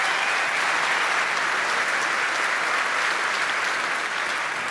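Sustained, steady applause from a large audience at a presidential debate at the Salmón Summit 2025, honoring the police, filling the whole stretch at an even, dense level with no voices standing out.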